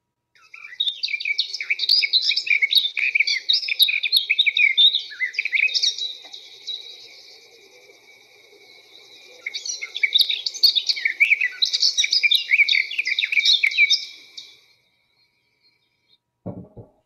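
A garden warbler sings a fast, sustained, mid-pitched warbling song in two long unbroken bursts with a short quieter gap between, clear and alone without talk, ending in a brief soft thump.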